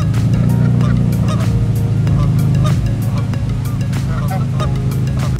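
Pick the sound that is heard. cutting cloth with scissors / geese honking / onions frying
geese honking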